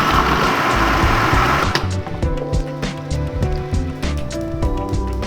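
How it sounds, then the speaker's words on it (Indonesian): An electric grinder purées soaked chilies, garlic, shallots and oil for sambal, a loud dense whirring that drops to a lower, uneven churning hum as the mixture thickens. "kita akan haluskan bahan-bahan untuk sambal"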